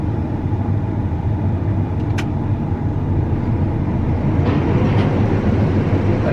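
Farm machine running with spinning parts and moving chains, a loud, steady low rumble and clatter throughout with a couple of faint metallic clinks.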